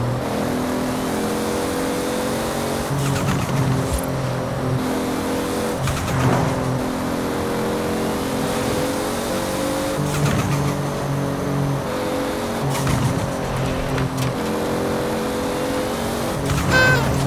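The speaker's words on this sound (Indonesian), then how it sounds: "Langsung ngegaspol mobilnya. Kita salip mobilnya dulu" A car in the Forza Horizon racing game accelerates hard and overtakes another car, its engine droning loud and steady with repeated rising rev sweeps and brief gear-change dips.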